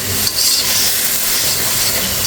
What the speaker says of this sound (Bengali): সম্পূর্ণ মশলা দিয়ে আমি একটু নেড়ে চেড়ে নিলাম।